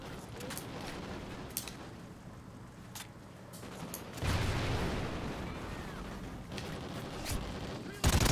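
Bursts of rapid SC-2010 rifle fire in Call of Duty: Ghosts multiplayer, with several short volleys and sharp shots heard at moderate loudness amid game noise and a player's voice.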